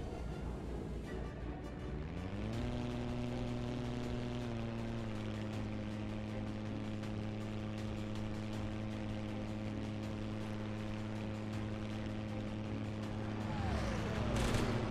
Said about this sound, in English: Restart the engine.